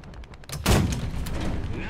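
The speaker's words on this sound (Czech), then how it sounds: "První výstřel." A tank cannon shot from the Nashorn tank destroyer in the video game War Thunder, one loud booming blast followed by a rumbling tail and battlefield noise.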